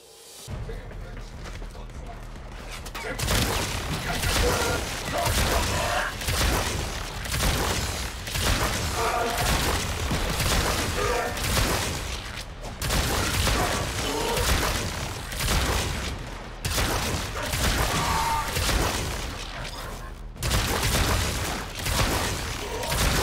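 Primary weapon fire in Warframe rattles in dense, rapid bursts with heavy booming impacts, continuous and loud for most of the stretch, broken by a few brief pauses.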